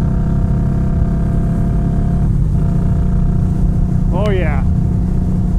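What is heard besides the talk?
Indian Scout Bobber motorcycle riding at 70 mph in sixth gear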